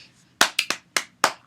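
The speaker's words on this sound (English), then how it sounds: "Everybody applaud." About six sharp, close hand claps come in an uneven rhythm after a brief quiet start, each one crisp and loud with no talking.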